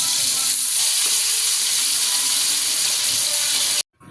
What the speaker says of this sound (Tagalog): Minamarinate ko muna yung atay and then iprito natin ang mga atay.